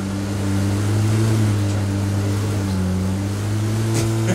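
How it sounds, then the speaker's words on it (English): A car engine drones steadily while driving in the PUBG video game, a loud continuous low hum with stable tonal bands and no talk over it. "First time I got a car."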